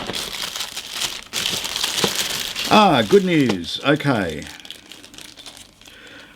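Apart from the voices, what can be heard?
plastic bag crinkling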